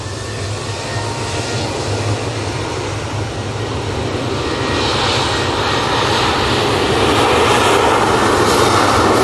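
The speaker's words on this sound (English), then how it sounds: "Beautiful landing there from the Etihad" An Etihad airliner landing at Manchester Airport, heard as a loud, continuous engine roar and rushing noise that builds slightly toward the end, with no voices.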